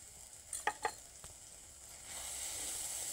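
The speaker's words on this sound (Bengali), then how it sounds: "পেঁয়াজের সঙ্গে এগুলোকেও ভাজা করে নেব।" Spices frying with onions in a pan for aloo dum, a few quick stirring knocks early on, then a soft sizzle that swells and holds steady, quiet and close.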